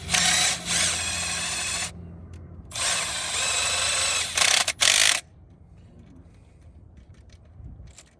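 A power drill spins an RV wheel chock's screw in and out in two loud whirring bursts, each about two seconds long, with a brief pause between. Quieter handling noise follows.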